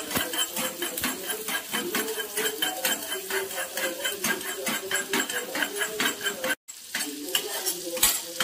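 Ginger garlic paste stirred into melted butter in a pan, a busy run of scraping and clinking spoon strokes against metal with a soft sizzle beneath, steady and close, with one brief dropout near the end.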